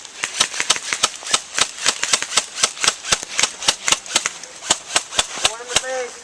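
Airsoft guns fire in a fast, even stream of sharp, snappy shots at the UpperCanadaTactical field, more than twenty cracks in about six seconds, loud and close, with a voice briefly calling out near the end.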